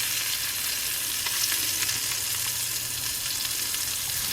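Scallops searing in a hot pan, a steady bright sizzle and crackle holding evenly throughout, close and fairly loud with no voices.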